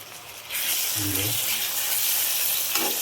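Masala of ground spices and salt sizzles loudly in a hot pan, a steady broadband hiss that surges up after a quiet start, with brief low stirring scrapes in the middle.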